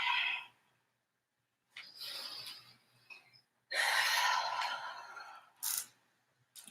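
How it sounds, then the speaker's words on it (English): Breathing during an exercise class comes as broad, airy exhale bursts of varying length, separated by short pauses, close and moderately loud with no speech over them. "Breathing."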